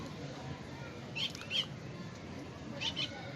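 A Teddy pigeon beats its wings in a few short bursts, two close together and then another pair, near and fairly soft over a low background hum.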